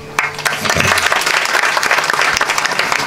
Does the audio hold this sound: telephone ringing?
no